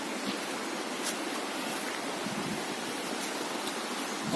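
Water from a forest stream flows continuously with a soft, even rushing hiss, steady and moderately faint with no voices over it.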